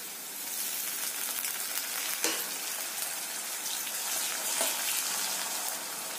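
Ginger and garlic paste fries in a pan of oil for a prawn curry, giving a steady, soft sizzle with faint crackles throughout.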